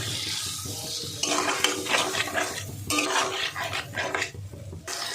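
Ground spice paste is stirred and fried in a pan for a vegetarian dish, with scraping utensil strokes, metallic clinks against the pan and a soft sizzle, heard up close and without talk.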